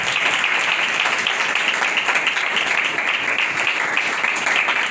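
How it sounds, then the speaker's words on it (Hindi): A church congregation claps loudly for a man seated among them, a dense, even burst of applause filling the room throughout with little else heard. "इनके लिए जोरदार तालीम देंगे, जोरदार तालियां"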